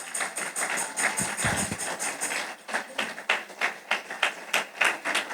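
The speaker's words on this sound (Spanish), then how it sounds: "denle un mejor aplauso al Señor" A church congregation, standing, claps together in a steady rhythmic beat, the claps growing sharper and more regular as it goes on.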